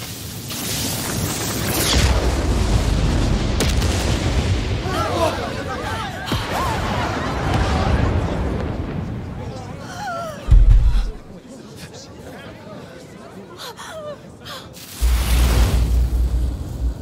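Deep booming blasts and rumbles erupt during a climactic sequence in the Spider-Man: Miles Morales game, with a sharp loud boom midway and another heavy rumble near the end, under frequent talking voices.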